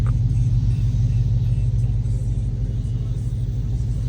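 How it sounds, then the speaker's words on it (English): A Dodge Hellcat in sport mode rolls through city streets, its engine a deep, steady low rumble heard from inside the car, with no voices over it. "I'm driving a sport mode right now"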